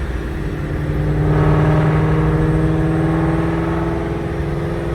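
A 1000hp Procharged Mustang's engine roars steadily under acceleration, loud and close from inside the car, swelling briefly and holding a rising whine through the pull.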